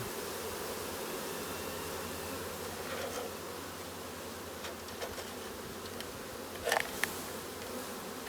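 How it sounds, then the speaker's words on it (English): A steady, dense hum of many honeybees buzzing and fanning close by, a constant drone with a few brief louder ticks near the end. "See how they're fanning with their tails up a little bit?"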